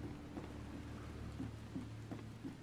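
Steady rain hisses in The Sinking City video game, a dense even wash of drops with a low rumble underneath and faint periodic taps, heard alone without talk.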